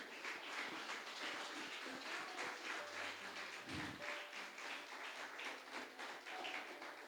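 A church congregation claps in a long, faint, continuous patter, with a low hum and brief tonal sounds underneath.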